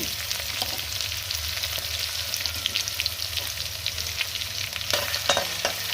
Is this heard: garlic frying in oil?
yes